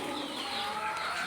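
Pigeons on a farm keep up a steady, dense murmur of cooing and fluttering, heard close and continuous without any voices.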